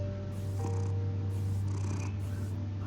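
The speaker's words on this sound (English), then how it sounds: "One of those weird cats." A cat purrs in Batman: The Telltale Series, a steady low continuous rumble that holds for the whole stretch under the game's ambient background.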